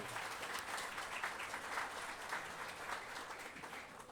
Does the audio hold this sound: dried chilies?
no